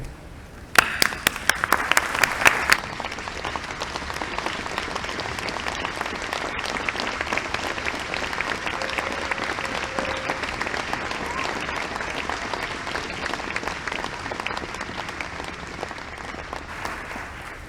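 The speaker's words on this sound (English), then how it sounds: "please, with me, rise up, newly minted doctorates, and applaud the people who got you here." At the UT Dallas doctoral hooding ceremony, a few sharp, close claps open long, steady applause from a large audience that fills the hall and holds for many seconds.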